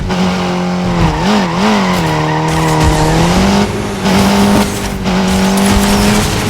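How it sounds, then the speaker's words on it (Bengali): A car in the Need for Speed mobile racing game roars through a wheelie, its engine note wavering and surging over tire squeal and skidding noise, loud and continuous without talk. "এবার হুইলি দেখুন কি সুন্দর হুইলি হয়।"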